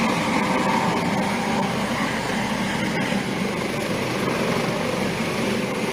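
Basarnas rescue helicopter operating in Kerinci, its broad, steady rotor and engine roar continuous and fairly loud throughout, with no voices over it.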